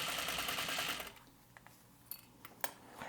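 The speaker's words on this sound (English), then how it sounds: "I'm just sewing really close to that edge." Sewing machine stitching close to the edge of a double-fold wristlet strap, a fast steady whirr for about a second, then stopping, followed by a few soft clicks and taps.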